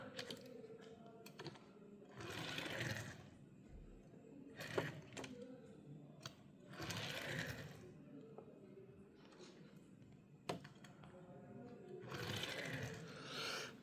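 A Hot Wheels Nissan Skyline GT-R R33 die-cast toy car rolling down a plastic track, making repeated soft rolling rumbles with a few sharp clicks and knocks, fairly quiet and close, with no talking.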